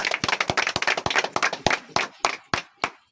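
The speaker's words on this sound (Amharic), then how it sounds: "እሺ፣ አጨብጭቡ ጉባኤዎች።" A wedding congregation breaks into brisk clapping at close range. It starts dense and overlapping, then thins to a few scattered, separate claps that die away over about three seconds.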